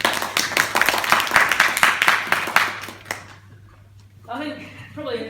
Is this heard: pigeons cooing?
no